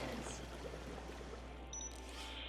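A robot sprays water in the futuristic game Beyond a Steel Sky, a steady, close hiss of spray running without pause under a faint background hum.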